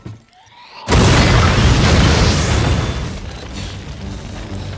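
A bomb detonates beneath a boat in a film scene, a sudden loud boom at about one second followed by a sustained roaring blast and crackling debris that slowly fades.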